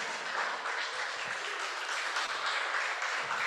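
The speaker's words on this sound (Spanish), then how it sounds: "Dele un aplauso al Señor." Church congregation applauds during a Spanish-language service, a thick sustained roar of clapping from a large crowd that stays steady and fills the room without a break.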